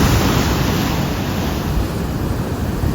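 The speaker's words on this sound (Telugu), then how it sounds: "లేస్తున్నాయి అలలు." Sea waves roll and break on a beach at Vizag, heard as a steady, loud wash of surf with wind buffeting the microphone and no speech.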